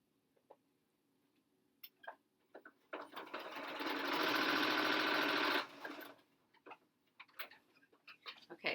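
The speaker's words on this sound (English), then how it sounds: "I'm going to sew the other set down, right sides together, 1/4 inch seam" A sewing machine runs steadily for about three seconds, stitching face mask fabric right sides together with a 1/4 inch seam, framed by scattered clicks and light handling taps before and after.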